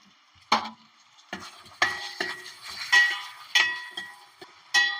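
Sliced onions frying in oil with a spoon of salt, heard as sharp metal scrapes and clinks of a spoon against the pan repeating every second or so over a faint sizzle, close and without talk.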